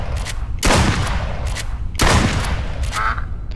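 Shotgun blasts in the video game Duck Season, two loud booming shots about 1.4 seconds apart with fainter pops and clatter between, close and sharp.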